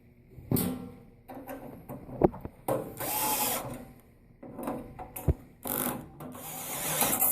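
Screws being loosened on a 110-volt exhaust fan with a power driver: short whirring bursts separated by pauses, interspersed with sharp metallic clicks and handling knocks nearby.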